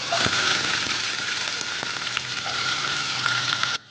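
Loud, continuous sizzling of small onions and curry leaves frying in hot oil for egg curry, with small pops, ending abruptly.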